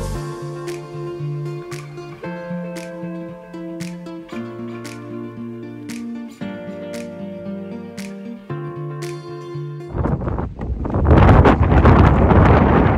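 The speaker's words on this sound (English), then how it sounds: "Wow, okay, that was windy." Strong wind gusts buffet the microphone at a canyon in a Colorado national park, a loud broadband roar that surges near the end after a stretch of steady tonal sound.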